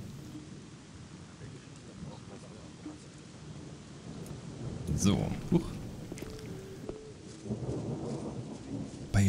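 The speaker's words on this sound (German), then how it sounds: "Bei Regen draußen rumlaufen." Rain falls steadily outdoors in the video game Gothic 1, with rumbling thunder swelling midway; someone speaks briefly over the storm.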